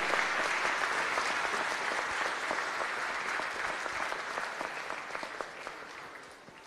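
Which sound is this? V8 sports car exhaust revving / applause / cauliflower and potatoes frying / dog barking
applause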